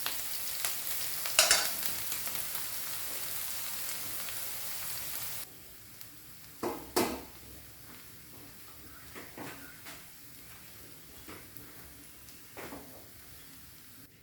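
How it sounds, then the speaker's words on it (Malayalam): Onions frying and being stirred in a pan on high flame for barley upma: a steady hissing sizzle with occasional scraping stirs, close, loudest early on then settling softer. "സവാളയൊക്കെ ഒന്ന് ചെറുതായിട്ടൊന്ന് മൂപ്പിച്ചാൽ മതി. ഒരുപാടധികം മൂപ്പിക്കേണ്ട,"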